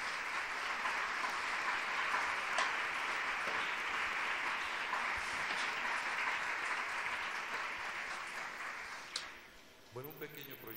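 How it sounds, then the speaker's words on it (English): Sustained audience applause at a press conference for an art exhibition, a steady broad wash of clapping that holds for about nine seconds, then thins and fades, with a few brief sounds at the very end. "So I think she deserves a recognition and a big round of applause."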